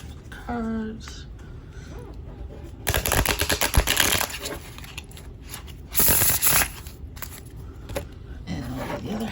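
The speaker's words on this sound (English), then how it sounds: "shuffle the cards" A Tarot of Oppositions deck is riffle-shuffled by hand, two close, loud bursts of rapid fluttering card riffles separated by quieter handling and soft taps.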